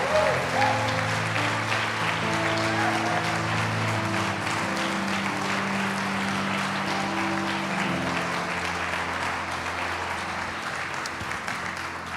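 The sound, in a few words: applause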